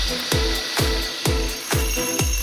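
Surface preparation on a tile floor before polyurea waterproofing, a grinding or scraping tool working the tiles with a steady broadband rasp broken by five or six sharp, evenly spaced impacts, loud and close, with no talk.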